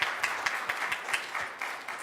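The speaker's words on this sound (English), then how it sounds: "Let's Th- give our thank- speakers a big round of applause" A small conference audience claps for the speakers, the individual hand claps distinct and somewhat uneven in rhythm and close by.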